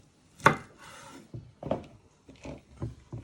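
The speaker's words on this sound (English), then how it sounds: "and then chopping them down the middle" A knife chops broccoli on a wooden board in a few separate sharp knocks, close and fairly quiet, with slight rustling between cuts.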